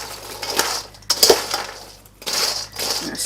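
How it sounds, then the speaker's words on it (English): A utensil stirs honey mustard sauce in a bowl, producing scattered clinks and scraping taps in short bursts with quiet pauses between, close and fairly crisp. "I'm going to stir it around a little more."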